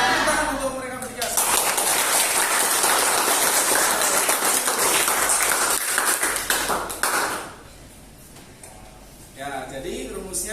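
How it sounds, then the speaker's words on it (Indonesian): Classroom applause from students during a mathematics lesson, a dense burst of clapping lasting several seconds before fading into quieter sounds, with voices present. "Tepuk tangan untuk mereka bertiga."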